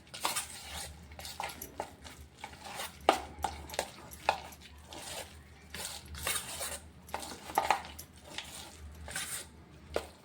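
Vada batter made from puffed rice, with a pinch of baking soda, being mixed by hand in a bowl: irregular clinks and scrapes of utensil against the dish, close and moderately loud, with soft squishing between them and no talking.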